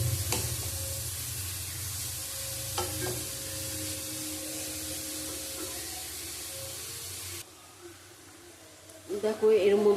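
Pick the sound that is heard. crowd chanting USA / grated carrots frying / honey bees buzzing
grated carrots frying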